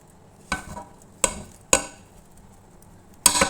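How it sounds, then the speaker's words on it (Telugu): A sugar, egg and vermicelli mixture for Arabic balaleet is stirred, giving four sharp scraping clinks spaced irregularly, with quiet pauses between and no talking. "ఇప్పుడు ఇవన్నీ బాగా కలిసేలాగా కలుపుకోవాలి."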